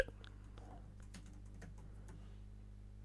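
Code is typed on a computer keyboard in a quiet room, a few faint scattered key clicks over a low steady electrical hum.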